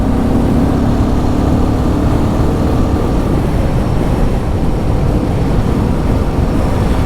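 A Royal Enfield Guerrilla 450 motorcycle cruises in sixth gear at about 50 mph and 4,000 rpm, its engine a steady drone buried under heavy, constant wind roar with no talk.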